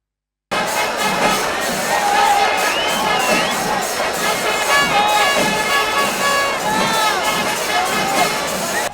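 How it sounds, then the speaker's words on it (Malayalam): A dense crowd roars and cheers continuously at the Thrissur Pooram Kudamattam umbrella exchange, shouts and whistles rising over a loud, sustained festival hubbub. "വരാൻ പോകുന്ന വർണ്ണക്കാഴ്ചകൾക്ക് സ്വാഗതമോതിക്കൊണ്ട് ജനക്കൂട്ടം ആർത്തുവിളിച്ചു"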